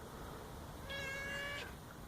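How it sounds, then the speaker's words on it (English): A cat gives one clear, close meow lasting under a second at a family campsite in Somerset in October, over quiet outdoor background noise. "We have a camp cat."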